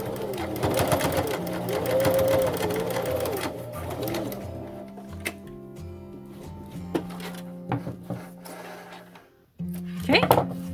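A sewing machine runs in rapid rattling bursts, stitching steadily then slowing with clicks and pauses, close by and fairly quiet.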